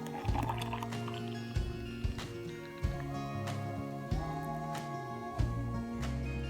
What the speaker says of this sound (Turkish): Detoks içeceğimi bardağıma koyuyorum.